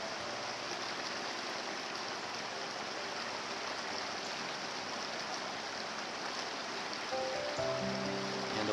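A creek fed by coal mine drainage flows steadily with a constant rushing, burbling wash of water, close and even throughout.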